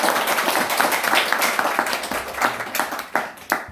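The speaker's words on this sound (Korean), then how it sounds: "우리 환영의 박수로" Applause from a church congregation at a Sunday service welcomes a guest speaker, a steady wash of clapping with scattered sharper individual claps, moderately loud and alone, with no talking.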